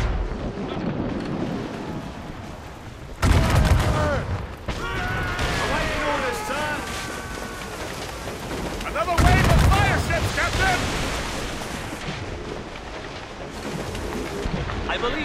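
Naval cannon broadside from a sailing warship in Assassin's Creed Rogue, two heavy booming volleys a few seconds apart over churning sea and wind, with shouted voices between.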